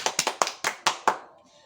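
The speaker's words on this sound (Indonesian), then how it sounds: "Kita beri tepuk tangan untuk semuanya atas hasil karya kita" A handful of hands clapping in a secondary school classroom, about six sharp, spaced claps that fade out after a second, close and fairly dry with no talking.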